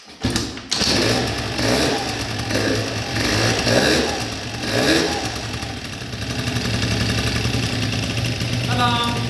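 A scooter engine fires on its first start after a crankshaft bearing replacement, catching abruptly then running with a raspy two-stroke buzz that rises and falls in revs, close and loud, with brief talk.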